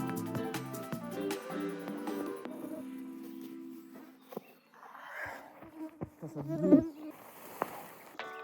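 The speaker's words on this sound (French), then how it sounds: "Il y a trop de moustiques." Insects buzz and whine close by at a campsite beside a tent during a bicycle trip across Estonia, a thin steady drone over faint background sounds, with a louder close pass near the end.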